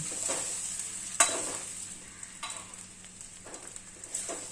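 Rice tossed in ghee with tempering spices in a pan for paneer pulao, a soft steady sizzle broken by a few sharp scraping stirs, close and fairly quiet.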